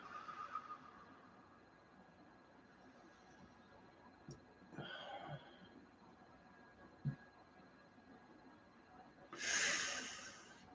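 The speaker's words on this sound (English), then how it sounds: "feel the rise and the fall of your sternum as you inhale and exhale" Slow, quiet breathing in and out during a guided meditation, with a soft exhale early on and a clearer, louder breath near the end, set against a faint steady hum.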